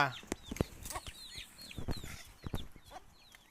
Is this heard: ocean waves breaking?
no